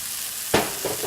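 Cubed eggplant, summer squash, garlic and sunflower seeds with oregano and salt are sautéed in hot oil, a steady sizzle rising into a sudden burst of frying hiss as they are stirred, then a couple of softer scrapes.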